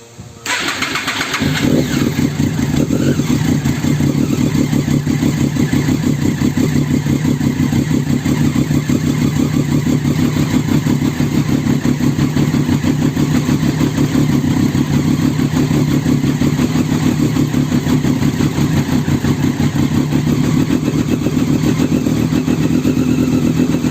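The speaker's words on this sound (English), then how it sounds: "now we're gonna try to get the bike started again" A Triumph Daytona 675 sport bike with a faulty MAP sensor and a lit check-engine light cranks briefly, catches and settles into a loud, steady, close-up idle that runs evenly for the rest of the clip.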